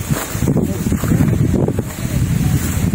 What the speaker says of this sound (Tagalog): Ito yung ganda ng hangin, mahangin kahit mainit.